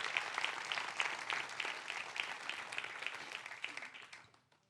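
A church congregation applauds at a sermon, a dense, fairly distant patter of many hands that holds steady for several seconds and then fades out.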